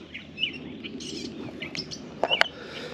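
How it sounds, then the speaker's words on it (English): Birds at Pony Creek Lake chirp and squabble in scattered short tweets and sharp calls, some near and some farther off, over a quiet outdoor background with no talking. "I hear the birds arguing"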